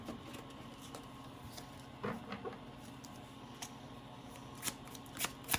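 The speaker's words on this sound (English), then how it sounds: "let's just pull out some of these cards" Oracle cards being shuffled for a spirit reading, a soft steady riffling and rustle with a few sharper snaps and flicks near the end, close and fairly quiet with no talking.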